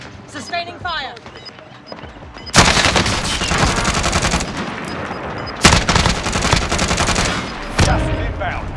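Sustained automatic gunfire in a trios battle royale video game, long dense bursts of rapid shots broken by short pauses, loud and close with a voice heard briefly at the start.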